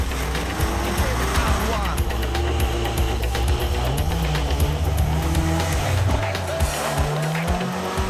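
An off-road 4x4 engine revs and strains while climbing a steep hill, with tires crunching and slipping over rough ground and rising, falling motor pitch.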